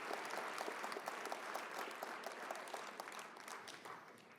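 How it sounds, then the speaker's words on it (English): A graduation ceremony audience applauds Business Diploma graduates, a crowd's steady clapping with distinct individual claps audible, close and even, slowly tapering off toward the end. "A round of applause for our graduates from the Business Diploma cohort of January 2023."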